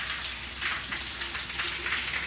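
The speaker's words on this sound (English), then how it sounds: "With the rain." Steady rain patters on the roof of a trailer with handmade interior woodwork, a dense continuous hiss of drops with no pauses and no voices over it.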